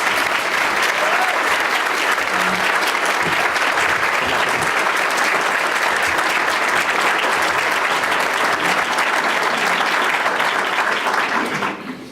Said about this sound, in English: Please give a warm round of applause to Kim Foxx.